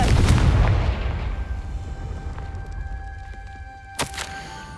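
Confringo blasting spell detonating in the Hogwarts Legacy video game: a loud, broad burst at the start that rumbles and decays over several seconds, then a brief sharper crack near the end over a faint steady tone.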